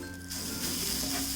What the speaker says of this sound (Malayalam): ഇതിലേക്ക് ഞാൻ 8-10 ഏലക്കായും 2 ടീസ്പൂൺ ചെറിയ ജീരകം കൂടി ഇട്ട് വറുത്ത് കൊടുക്കുകയാണ്.